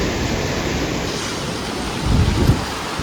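Heavy monsoon rain pours down during a village flood, a loud, steady broadband hiss of downpour with a deeper rumbling surge near the end, no voices.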